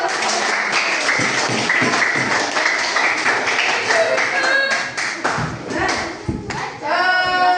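Classroom students applauding after a lesson on making sweet tea, a dense steady patter of many hands that stays loud for several seconds, with voices and brief tones mixed in near the end.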